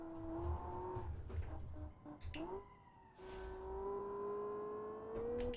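A sport luxury car engine in the BeamNG driving game revs and shifts, a strong tonal drone rising in pitch, dropping briefly during a gear change, then climbing again, with a low rumble underneath.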